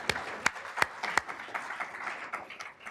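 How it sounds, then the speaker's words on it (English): A summit audience claps in scattered, uneven bursts, a few sharp close hand claps standing out over a soft, fairly quiet patter of applause. "Yeah, you can clap for that."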